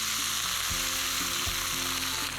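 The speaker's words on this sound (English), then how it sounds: "A little bit more of our sesame oil goes in. Just a dash of water when you're stir frying can help kind of steam and cook things really quickly." Leafy greens sizzle and fry steadily in a hot wok with sesame oil and a dash of water, a dense, loud crackle close by with occasional scrapes of stirring and no talking.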